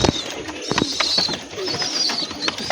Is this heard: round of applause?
no